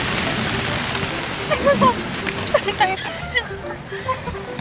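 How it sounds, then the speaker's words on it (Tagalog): Steady rain falling in San Juan, a constant close hiss of drops on surfaces, with faint chirps and a voice at low level underneath. "It's raining. It's been raining in San Juan."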